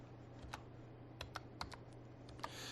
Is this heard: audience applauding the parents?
no